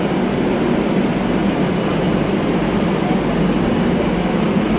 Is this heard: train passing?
yes